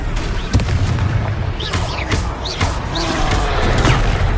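The Confringo blasting spell in the Hogwarts Legacy video game, heard as loud, booming explosive blasts mixed with whooshing spell effects and battle noise.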